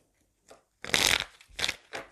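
Tarot cards being shuffled in short bursts: a brief riffle, then a longer crisp shuffle followed by two shorter ones, close and fairly loud with no talking.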